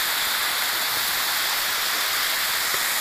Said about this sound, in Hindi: ये देखें पानी किस तरह जा रहा है और इधर नीचे गिर रहा है नदी के।